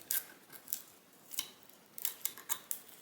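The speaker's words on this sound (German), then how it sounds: "Deswegen schneide ich hier bis auf die Kante die Folie auf." Scissors snip through foil laid over an acrylic painting, giving several crisp, quiet cuts in an irregular rhythm against near silence.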